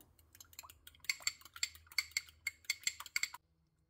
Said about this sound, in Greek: Σε ένα μπολ προσθέτουμε την τριμμένη κολοκύθα, δύο αυγά τα χτυπάμε